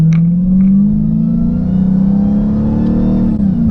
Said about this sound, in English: What makes this car such an instigator is that whine